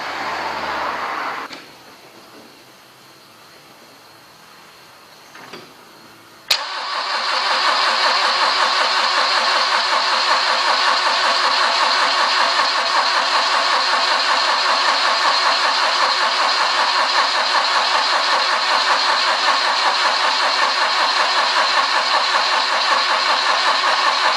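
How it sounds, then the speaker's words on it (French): A Citroën CX 2200D diesel, newly fitted with glow plugs, cranks for several seconds, then catches abruptly and settles into a loud, steady idle, close by with no talk. "on croise les doigts et on va essayer de démarrer"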